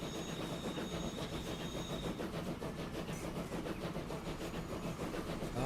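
Train rolling along in Transport Fever 2, a constant mechanical rumble with a faint rhythmic clatter, heard at low level without speech.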